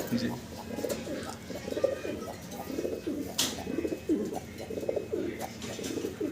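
Cream-coloured Iranian pigeons, a female among them, coo in repeated soft throaty bursts close by. Faint chirps and some background voices sit underneath.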